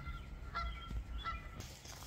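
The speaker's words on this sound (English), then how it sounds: "Got some geese up here, hanging out behind the barn at night." Geese honk behind a barn at night, with several faint, distant calls spread irregularly over a low background hum.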